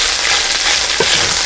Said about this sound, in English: What I want to do is just get this meat braised. You can really smell it, sesame oil.